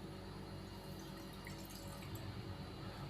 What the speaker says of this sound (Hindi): चाशनी तैयार करने के लिए छोटी सी पतीली के अंदर हम हाफ कप पानी डालेंगे।